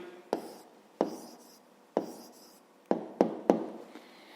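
Pen or chalk writing an answer in a maths lesson, heard as six sharp taps and scratchy strokes at irregular intervals, close and fairly quiet with no talk.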